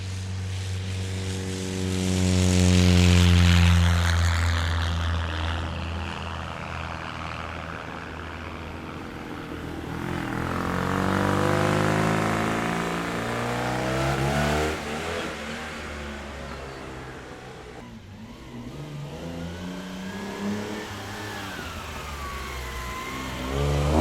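Targa Florio Australia race car engines rise and fall as cars pass at speed one after another at Tyabb Airport, swelling loud then fading into the distance across open ground, with no voices.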